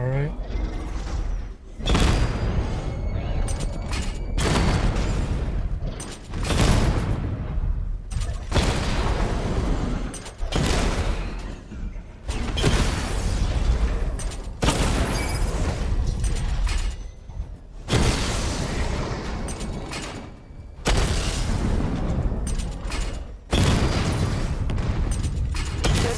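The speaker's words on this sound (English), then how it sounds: "Charge up missile barrage to level 2 and destroy 4 active targets to complete diagnostic test" Repeated heavy booms and rumbling blasts from the Batmobile's missile barrage in Batman: Arkham Knight, coming in several loud bursts separated by short gaps, with a voice talking in between.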